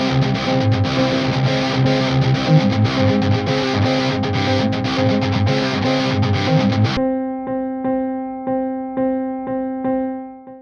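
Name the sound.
simplified guitar riff line played on sampled Steinway grand piano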